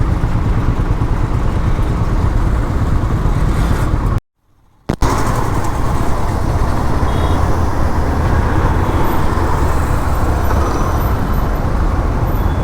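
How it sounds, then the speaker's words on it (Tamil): Road traffic heard from a moving motorcycle, a continuous loud rumble of engines and wind noise with passing vehicles, briefly cutting out once near the middle before resuming. "இந்த டிராஃபிக் இன்றைக்கி முடியாது போலயே."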